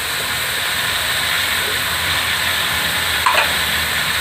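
Chopped capsicum sizzling in a hot pan while cooking chicken macaroni, a loud steady hiss with a brief clink of a utensil near the end.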